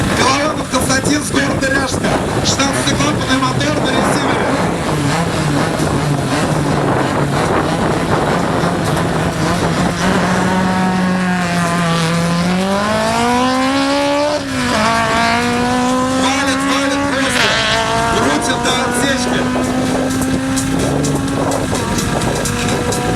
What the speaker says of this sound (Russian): на старт выезжает ПТР Stage 1. Выхлоп чип примерно 600 лошадиных сил.